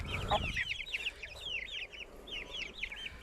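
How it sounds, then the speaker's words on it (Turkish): Several chicks peep in quick, rising chirps, repeated in a busy cluster after a brief low rumble at the start. "işte bu horoz arkadaşlar"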